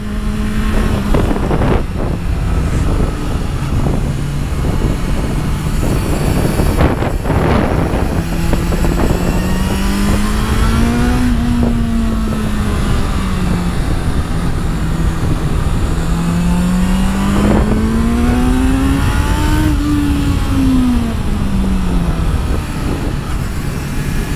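A Honda CBR 650 F motorcycle on a test ride, its engine droning continuously with a buzzy, vibrating tone that rises and falls as the revs change, under heavy wind rush.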